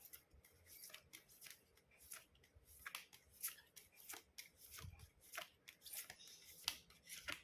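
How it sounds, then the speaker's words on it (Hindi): Tarot cards being shuffled by hand, a series of quick papery riffles and rubbing swishes in irregular bursts, close up and fairly quiet with no talking. "कार्ड्स हो गए हैं शफल"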